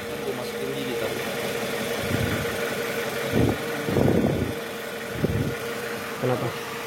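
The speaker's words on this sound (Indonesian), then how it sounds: "mesinnya pincang karena koilnya mati 1" A Toyota Harrier engine idles roughly with one dead ignition coil, a low, uneven rumble broken by irregular heavier pulses and shakes, with voices talking over it.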